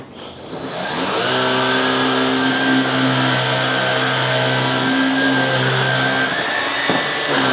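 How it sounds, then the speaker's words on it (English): A Black & Decker PowerSeries 16v cordless vacuum whirs up and runs steadily on a hard floor, a loud sustained motor whine with a humming tone, no talking. "now let's try the Black & Decker PowerSeries on some hard floors"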